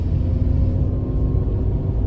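Cars pass along a road on Madeira, a loud steady engine rumble close by without talk.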